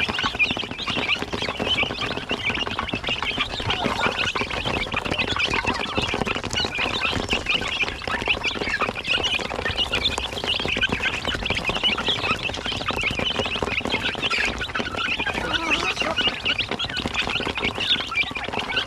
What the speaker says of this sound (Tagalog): At may isang gansa.